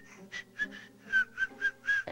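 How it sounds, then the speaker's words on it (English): A series of short, thin whistles, about six, in an uneven rhythm like air squeaking through a nostril, close and quiet. "You'll hear whistling nostril grates like"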